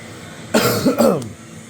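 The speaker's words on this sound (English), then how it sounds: "Apologies for me keeping coughing." Two quick, raspy coughs close to the microphone, the second a little stronger, followed by a brief throat sound and quiet.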